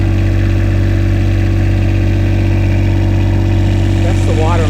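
A 6 kW Northern Lights marine generator runs just after start-up aboard a sailboat, a loud steady droning hum with a strong low tone, close and constant, with a brief voice near the end.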